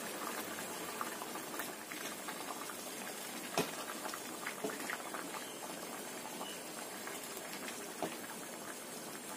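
Fried fish and petai simmer in a spiced sauce in a pan, a continuous soft bubbling and popping that runs steadily with small crackles and no voices.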